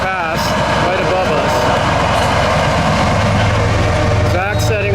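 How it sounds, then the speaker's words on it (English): A commuter rail train passes directly overhead beside a boys' varsity soccer game, a loud sustained rumble with a steady low drone that grows heavier toward the end, heard under talking voices. "That's the commuter rail train going past right above"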